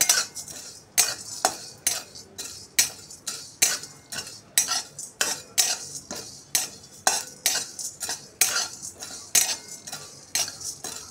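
Spices being dry-roasted in a pan, a rhythmic series of metal spoon scrapes against the pan roughly every half second, close and crisp with a faint sizzle underneath, no voices.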